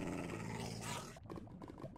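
A creature in a modded Minecraft world growls, a low rough rumbling that swells loud and then continues more brokenly, with no talk over it.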